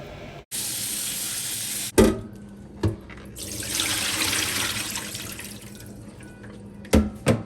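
Running tap water splashes into a kitchen sink as vegetables are washed, a steady rush broken by short stops and clunks of handling, fairly quiet and close with no talk.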